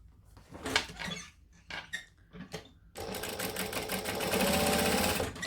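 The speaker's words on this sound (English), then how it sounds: "And then it says to top stitch on the outer edge." A sewing machine runs in a steady, fast mechanical whir while top stitching along the outer edge of a garment, following a few scattered handling clicks and rustles at the start; it is close, fairly quiet, and no one talks.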